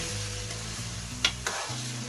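Spices fry in a pot for aloo gosht, giving a short burst of steady sizzle with a couple of sharp scraping knocks from stirring near the middle.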